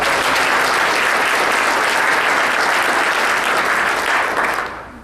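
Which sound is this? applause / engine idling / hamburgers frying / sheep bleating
applause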